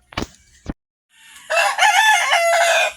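A Rhode Island Red rooster crows loudly and close by in a long, sustained call during spur trimming, preceded by a couple of brief sharp sounds and a moment of silence.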